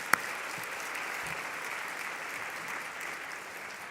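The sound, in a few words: audience applause for keynote speaker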